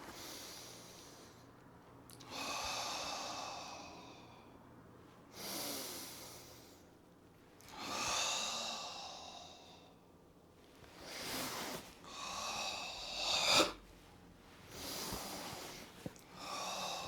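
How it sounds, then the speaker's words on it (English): Forceful Goju-Ryu karate dragon's breath exhalations, about seven long, rasping pushes of air from the belly through the throat, evenly spaced with pauses between, close and breathy with no talk. "then you expel that out and shoot the fire from deep within your belly, through your throat and out into the world"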